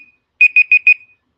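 A trivia countdown timer alarm goes off with four quick, evenly spaced electronic beeps, loud and close, then silence.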